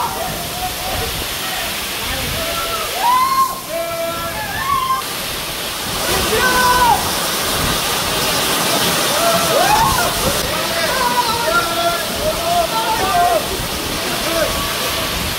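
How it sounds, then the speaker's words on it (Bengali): Sahasradhara waterfall at Sitakunda, water plunging from a great height in a steady loud broadband roar, with people talking over it throughout. "এটা অনেক উপর থেকে পানি পড়তেছে"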